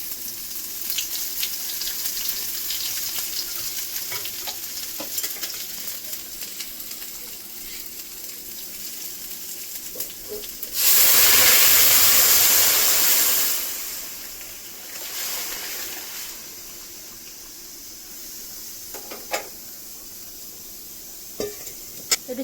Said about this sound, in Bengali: তেল গরম হয়ে গেছে, দিয়ে দেবো শুকনো লঙ্কা, তেজপাতা, সর্ষে, একটু আদা দিয়ে দিচ্ছি।